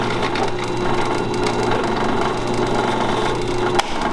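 A Forstner bit counterbores a hole in wood, making a steady, loud whirring grind that runs unbroken for about four seconds, close by with no talking.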